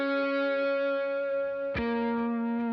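Light, crunchy electric guitar lead tone from an Archetype: Mateus Asato amp-sim patch, sustained notes ringing with a sharp new pick attack near the middle, played alone without talk.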